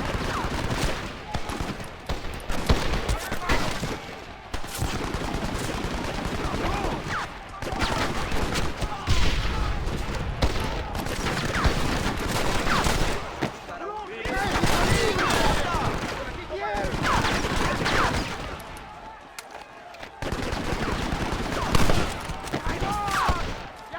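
Dense machine gun fire and scattered gunshots from a Red Dead Redemption battle, running loud and nearly continuous under shouting voices and game dialogue.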